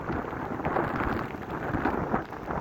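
Storm at Glenmore Reservoir under a yellow warning, with strong wind roaring and buffeting the microphone, rain, and low rumbling thunder, a loud, continuous, turbulent roar.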